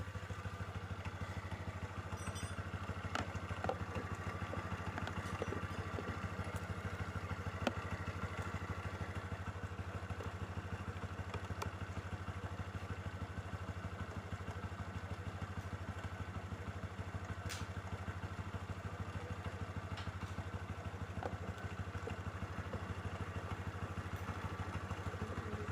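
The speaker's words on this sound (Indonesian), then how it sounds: "Ternyata untuk motornya masih hidup ya." A Honda Revo Absolute motorcycle engine idles with its battery disconnected, giving a steady low hum with continuous mechanical clatter and a few small knocks throughout, close and alone.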